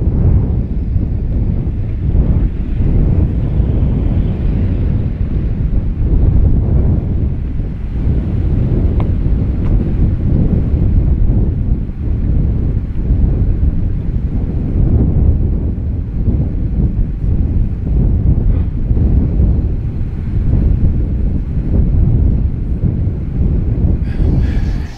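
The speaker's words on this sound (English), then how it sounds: "It's cold and it's windy here." Strong, steady wind on a cold mountain near a lava flow roars and buffets against the microphone for the whole stretch, a loud, rumbling blast with no letup.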